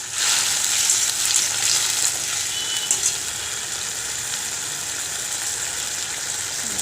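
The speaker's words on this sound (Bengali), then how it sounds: "সবগুলো মশলা একসাথে নাড়তে থাকবো। মশলাগুলো কষিয়ে নেবো।" Spices and boiled potato are stirred and fried together in a kadai, giving a bright, hissing sizzle with stirring scrapes that are busier for the first few seconds and then settle into a steady fry.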